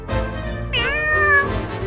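A cat gives one drawn-out, wavering meow that rises and falls over a low, continuous background hum.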